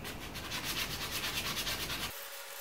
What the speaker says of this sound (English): just get in there with some hand sandpaper, see if we can finish this off